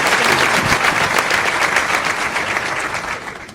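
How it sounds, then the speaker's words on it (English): Loud, dense round of applause from the audience at a college athletics hall of fame induction ceremony, sustained and even before easing off slightly at the end. "Give a round of applause."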